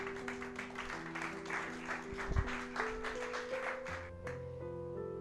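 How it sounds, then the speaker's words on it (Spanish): A church congregation applauds during a Spanish-language sermon on fasting, a broad wash of clapping over sustained keyboard tones that fades out near the end. "Denle un aplauso a Dios por eso, mi hermano."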